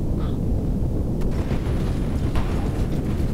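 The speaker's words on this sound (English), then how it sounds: "That was mid explosion" A rocket explosion in Kerbal Space Program roars as a loud, sustained low rumble that fills the whole stretch, dense and continuous with no voices.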